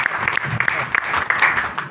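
Enthusiastic audience applause at a business plan presentation, many hands clapping in a dense, steady patter with a few crisp claps standing out, loud and unbroken.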